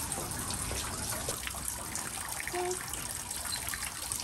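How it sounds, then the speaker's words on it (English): Water runs steadily from a spout into a stone hand-washing basin at a Japanese shrine, a close, continuous trickle and splash that fills the whole stretch without pause. "you wash your hands directly from the running water"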